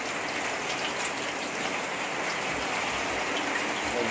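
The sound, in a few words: heavy rain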